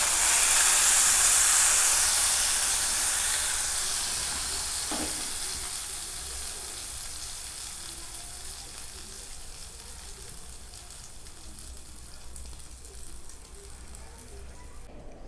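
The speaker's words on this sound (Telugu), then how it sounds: "తాలింపు వేసేస్తుందండి దీంట్లో." Cumin and mustard seed tempering is poured into buttermilk curry, starting as a loud, bright sizzle that fades over several seconds into a quieter, settling hiss.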